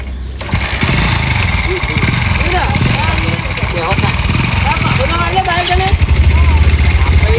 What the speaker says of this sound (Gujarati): કોનાજી મારે હું બાઈક ચાલુ કરું